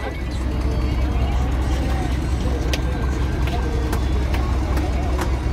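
A boat engine drones steadily and close by on a river trip in the Sundarbans, a continuous low rumble with faint clicks on top while people talk over it.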